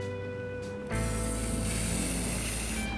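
A spray bottle mists water onto a sheet of rice paper, a loud, steady close-up hiss that starts abruptly and runs almost to the end.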